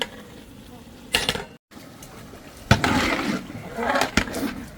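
A spoon stirs and mixes mandi rice in a hot pot, giving loud scraping strokes in bursts over a faint sizzle.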